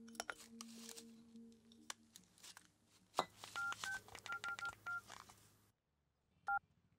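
A phone keypad being dialed: a quick series of electronic tone beeps over background clatter, then silence and one last pair of tones.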